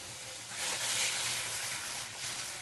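Finely chopped tomato hitting hot oil with mustard seeds and cumin, a steady broad sizzle that swells slightly and stays close and even throughout.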